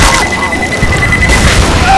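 A grenade explodes in a video game combat scene, a loud, heavy boom and rumble dense with crashing debris and gunfire-like crackle, sustained and close throughout.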